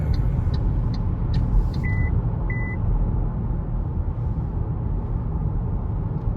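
An MG4 Luxury electric car with a 64 kWh battery and 204 hp accelerates on the road, a steady broadband rush of tyre and wind noise carrying on throughout, with a couple of brief electronic beeps early on.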